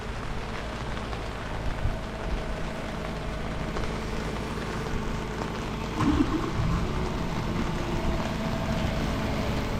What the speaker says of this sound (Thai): ฝนเริ่มตกแรงมากกว่าเดิมอีกครับผมทุกคน